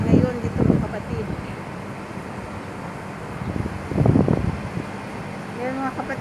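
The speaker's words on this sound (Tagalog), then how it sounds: "Tsaka mahangin ngayon dito mga kapatid." Strong wind during a sandstorm blows as a steady, loud roar and rush over the microphone, swelling in gusts at the start and again near the middle, with a person talking at intervals.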